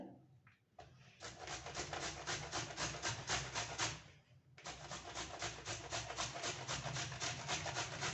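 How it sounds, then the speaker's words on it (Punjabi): Carrots being hand-grated for gajrela, a Punjabi carrot pudding, giving steady rhythmic rasping scrapes close by, with a brief pause midway before the grating resumes. "ਉਹਨਾਂ ਨੂੰ ਮੈਂ ਕੱਦੂਕਸ਼ ਕਰ ਲਿਆ ਜੀ"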